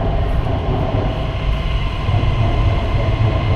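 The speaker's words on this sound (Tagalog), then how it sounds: "Ayun, ayun na yung train." A train pulls into a station in China, its steady rumbling roar and rail noise filling the air continuously and loudly, with no talk heard.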